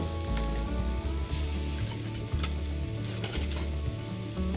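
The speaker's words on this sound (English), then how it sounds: "We're just going to give it a little quick pan fry." Steady, loud sizzling of vegetables frying in a hot pan, with occasional stirring clatter and no voices.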